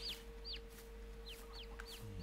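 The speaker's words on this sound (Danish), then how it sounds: "Ja, de har fået kyllinger." Chickens on a farm in Stenhøjgård, with several quick, high, chirping calls scattered over a steady low mechanical hum, no talking.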